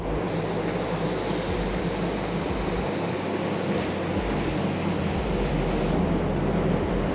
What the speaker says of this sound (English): That's spraying weird.